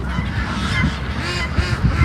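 A group of farm ducks, a mother with her ducklings, calls loudly and continuously at close range with honking quacks, and nobody talks.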